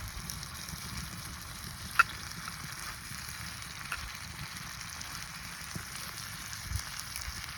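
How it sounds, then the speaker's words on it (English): Bacon frying in a pan for a cowboy-style breakfast gives a steady, soft crackling sizzle throughout, with a few sharper pops of spattering grease and no one talking. "Really gotta make sure this bacon cooks thoroughly."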